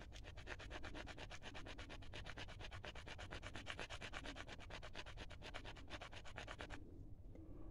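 Paint being ground on an obsidian scoop tool, a steady rapid back-and-forth rubbing scrape held close for several seconds before stopping abruptly, with no talking.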